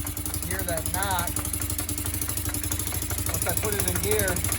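A 2008 Kawasaki quad idles close by with a steady, rapid rhythmic knock running through the engine note, while someone talks over it.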